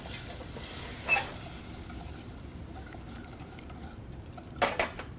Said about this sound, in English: So work slowly, constantly whisking in, allowing the starch granules to gelatinize or swell.